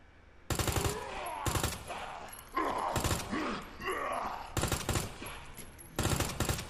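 Gunshots fired at zombies in the Resident Evil 2 Remake video game, several sharp loud shots spaced a second or so apart, with groaning zombie moans between them.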